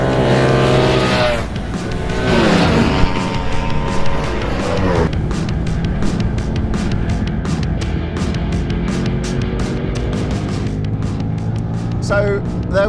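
A Ducati Streetfighter V4S motorcycle roars around the Silverstone GP circuit at a trackday, its engine rising and falling through gear changes, loud and steady with wind rush and a voice heard over it.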